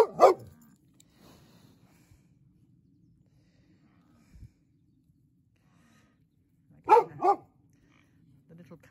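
A small farm dog barking near water buffalo: a short bark at the start, a long quiet gap, then a sharp double bark, all fairly close and clear.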